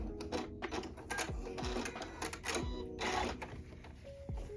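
A sewing machine stitches across a skirt's elastic waistband and then back stitches, a close mechanical whirring and clatter in short bursts with brief pauses and small clicks.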